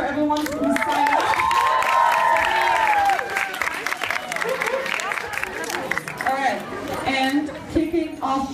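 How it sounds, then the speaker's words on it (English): A talent show audience at an Oxford University summer event breaks into sustained applause and cheering, loud and close, with shouts and chatter mixed in. "So one big round of applause for everyone who signed up."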